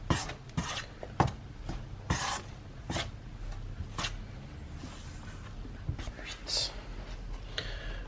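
A spoon mixes homemade pizza dough in a bowl, with steady scraping and stirring and repeated sharp clicks against the bowl, close up, while a person talks over it.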